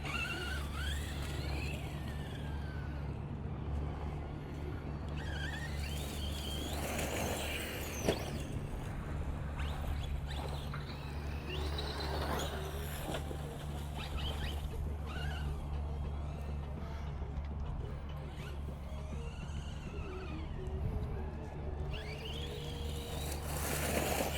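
A 1:7 scale Ridge Racer U4 RC offroad desert buggy drives and jumps outdoors. Its electric motor whines continuously at a moderate distance, rising and falling with throttle changes, with occasional thumps and rough rolling noise.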